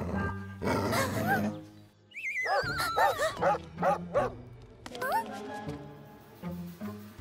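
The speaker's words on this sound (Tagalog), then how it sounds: "Oh, isang galit na aso!" A cartoon dog barks and yips angrily and repeatedly in short excited bursts, mixed with a background voice and some whimpering tones.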